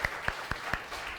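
Four slow, evenly spaced claps echo in a church congregation, quiet and roomy, without cheering or other voices.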